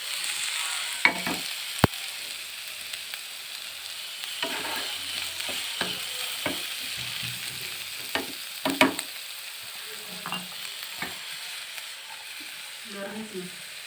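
Sirloin steak sizzles steadily in a hot pan, a constant bright hiss with scattered pops and clinks of a utensil, close and even throughout, with a brief voice or two in the background.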